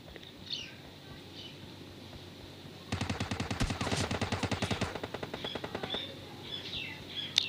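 Gunfire in the video game PUBG Lite: quiet game ambience with faint chirps, then a rapid automatic burst of shots rattling for about two seconds before trailing into sparser pops.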